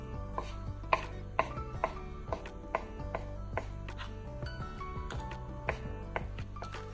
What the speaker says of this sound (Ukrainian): Беремо крабові палички і нарізаємо їх е, на такі квадратики.